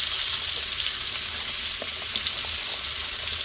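Leeks sizzling steadily in a cast iron Dutch oven, a close, even frying hiss with faint crackles throughout.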